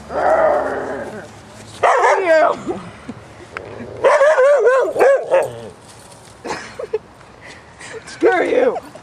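A dog barks in loud, sharp bursts several times, close by, with a voice speaking between the barks.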